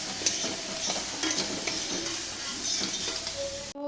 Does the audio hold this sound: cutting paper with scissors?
no